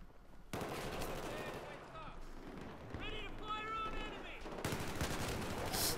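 In the video game Battlefield 4, gunfire crackles in repeated bursts of shots amid busy game noise, fairly close and rough.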